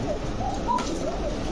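A racing pigeon gives soft, low coos several times in quick succession, close and fairly quiet, with no talking over them.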